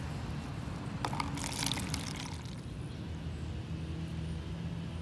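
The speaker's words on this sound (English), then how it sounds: "And now I'm going to pour the water." Water is poured onto a sand plateau model in a classroom earth science demonstration, a brief splashing pour about a second in, then a quiet trickle fading into low background noise.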